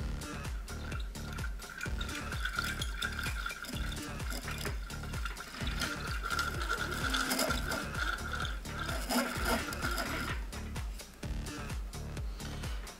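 A fishing reel winds fresh line onto its spool, next to a bucket of water, giving a steady run of close, rhythmic mechanical clicks and ticks that continues alone for the whole stretch.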